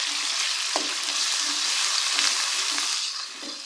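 Ginger-garlic paste fries with onions in a pan, a bright, steady sizzle with soft scraping stirs at intervals, close and even, easing a little toward the end, with no talking.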